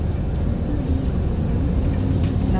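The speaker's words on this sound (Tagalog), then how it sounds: "Sobrang traffic on." Heavy road traffic in Kuwait rumbles continuously, with a low engine drone and passing vehicles close by.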